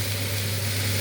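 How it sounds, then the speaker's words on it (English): A large sirloin steak sizzles steadily in a hot pan, producing a dense, even crackle with a faint low hum beneath it. "Steak's in there sizzling away"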